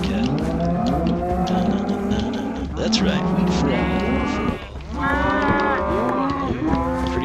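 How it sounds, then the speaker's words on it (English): Minecraft cattle mooing in a video game, several drawn-out bovine calls in a row, loud and close, with a player's voice speaking briefly over them. "okay, we're gonna get some more cattle."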